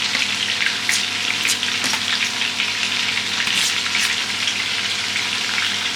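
Cooked rice goes into a hot pan for biryani, and a loud, steady frying sizzle fills the whole stretch with small crackling bursts scattered through it and no voices.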